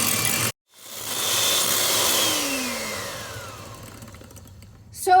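An electric mixer beats pineapple upside-down cake batter while oil is added little by little, a steady whirring drone that cuts out briefly near the start, then runs loud and continuous with a gradual drop in pitch.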